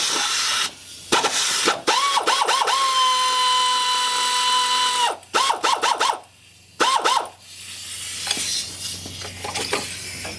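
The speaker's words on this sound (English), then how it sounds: "use my air ratchet tool" A pneumatic air ratchet loosens a 14 mm bolt during alternator replacement on a 1996 Lexus LS400, firing in several short, sharp bursts with a sustained whine in the middle, loud and close with no talking.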